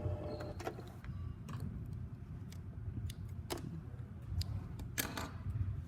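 A sewing machine with a zipper foot stitches a few short forward and backward tacking stitches on an invisible zipper, a quiet mechanical whir with faint clicks close by.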